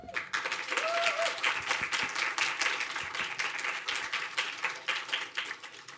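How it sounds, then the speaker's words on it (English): A room of listeners at a final presentations event claps for the class's teaching staff, giving lively applause with distinct individual claps that stays strong throughout. "I want to give a big round of applause for the folks who did all of the day-to-day teaching in this class."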